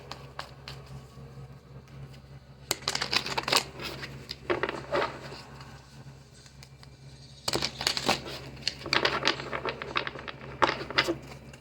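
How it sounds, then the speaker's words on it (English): Tarot cards being shuffled in two bursts of crisp riffling and slapping, separated by a quieter pause, close by with no talking. "Sorry, I'm taking too long to shuffle."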